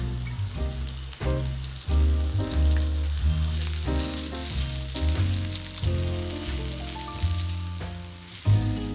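Chicken mini fillets fry in olive oil in a pan, giving a continuous crackling sizzle that sits under louder background sound.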